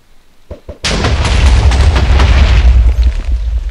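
Explosion set off inside an explosion-proof house in the Minecraft mod Thaumcraft 3: two small pops, then a loud, sustained booming blast with rumbling low end that carries on for several seconds with no talk.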